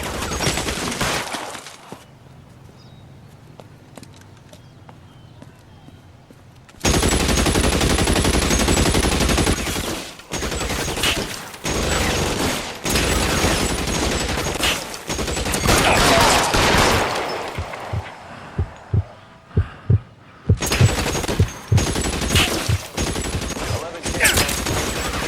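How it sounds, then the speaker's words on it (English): Gunfire in L.A. Noire: heavy bursts of automatic fire and sharp single shots, some close and loud, with glass shattering, quieter pauses between volleys and a voice speaking at times. "Shots fired and officers need help at 1452 Northwest Palms."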